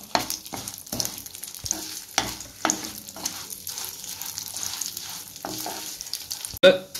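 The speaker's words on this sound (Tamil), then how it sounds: "இப்போ அதே நெய்யிலே ஒரு அரை கப் அளவு சேமியா எடுத்துருக்கேன், அதை இதில் சேர்த்து வறுத்துப்போம்." Vermicelli frying in ghee while being stirred to a golden brown for custard kheer, a steady soft sizzle with scraping stir strokes throughout and a sharper clatter near the end.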